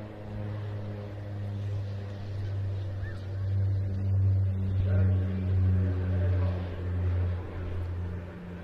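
An OV-10 Bronco turboprop performing a steep spiral climb at an air festival display, its steady droning propeller hum rising and falling at a distance, with faint crowd and commentary noise underneath.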